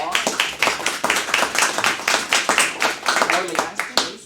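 Applause at a board of education meeting as a student is called up, with distinct rhythmic hand claps from a modest group of people, steady and fairly close, with some talk mixed in.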